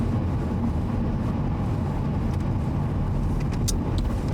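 A car's interior road noise rumbles steadily on a driving test route near Navan, a constant low drone of engine and tyres with faint higher whines near the end.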